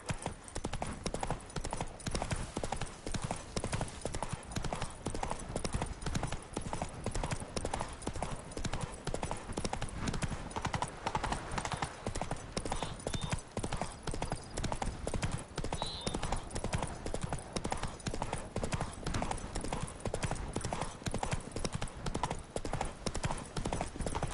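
Horse hooves galloping steadily in The Witcher 3, a fast, unbroken rhythmic clatter that stays loud and close throughout with no pauses.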